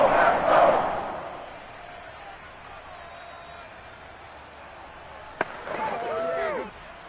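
Football stadium crowd during an NFL game ahead of a big third down, a broad roar swelling loudly at first then settling into a steady distant murmur, with a sharp bang near the end and a commentator talking over it.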